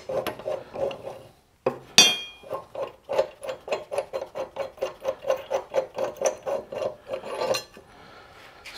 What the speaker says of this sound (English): I'm going to go towards the left or counterclockwise and just spin this bolt off.